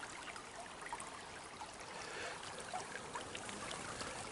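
A spring creek by a covered bridge runs briskly in a soft, steady rush and trickle, continuous and fairly faint, with no voices.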